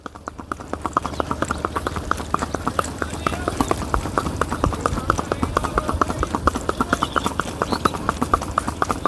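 Sindhi mare's hooves clip-clopping steadily on firm ground, a fast, even rhythm of close, loud hoofbeats, with someone talking over them.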